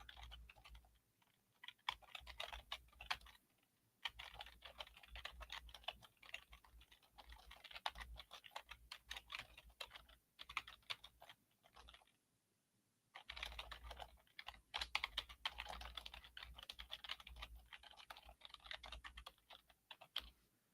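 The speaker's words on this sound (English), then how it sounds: "I'm going to type that out." Rapid typing on a computer keyboard, a dense run of close, crisp key clicks in two long bursts separated by a short pause, with no talking over it.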